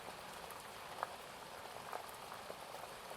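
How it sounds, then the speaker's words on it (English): Water boiling in a pot for spaghetti: soft, continuous bubbling and gurgling with a few small pops, quiet and close, no voices. "As the water begins to boil, so you place spaghetti into that water"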